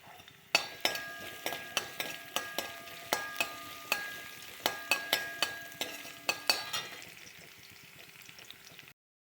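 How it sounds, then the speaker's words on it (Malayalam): Garlic fries in a pan under a run of sharp, evenly spaced metallic clinks from a spoon striking the pan, with a faint sizzle beneath and no voices. "അതിനാദ്യം വെളുത്തുള്ളി ഒന്ന് മൂത്ത് വരട്ടെ."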